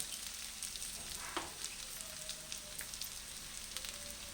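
Onions frying in oil in a pan and being stirred give a soft, steady sizzle with occasional light scrapes, heard close but quietly, with no talking.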